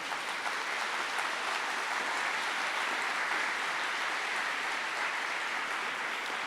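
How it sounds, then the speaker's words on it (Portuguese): A church congregation applauds during a sermon, a dense, even wash of clapping that holds steady from start to finish at moderate volume. "Vamos aplaudir Nossa Senhora na casa de Isabel."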